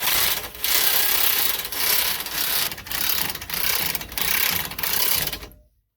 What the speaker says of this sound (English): I might have to get the air gun on it because it's more powerful